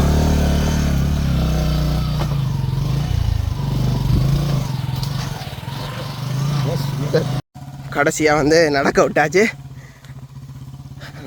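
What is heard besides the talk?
motorcycle being ridden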